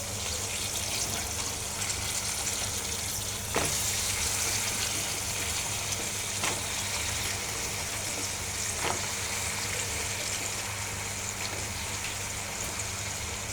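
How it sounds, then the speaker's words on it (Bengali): Hyacinth beans frying in a pan with dried fish and chili paste, a steady soft sizzle that runs throughout with a few faint clicks, no talking. "আমি এখন সিমটা ভাজি করে নেব"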